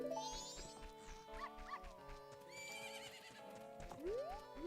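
A horse neighs and whinnies in a Majora's Mask romhack, with hoof clip-clop and dog-like yelps mixed into busy game music, several whinny calls rising and falling over nearly five seconds.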